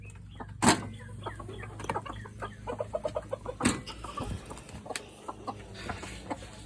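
Backyard hens clucking in their pen, a string of short, close clucks and squawks with a couple of louder sharp calls, no talking.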